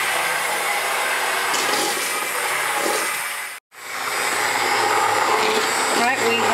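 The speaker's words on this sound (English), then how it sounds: "we take our immersion blender, and that's going to come up to heat, and I'm going to puree this" An immersion blender whirs steadily while pureeing a pot of crawfish bisque, loud and close, cutting out briefly for a moment before starting up again and running continuously.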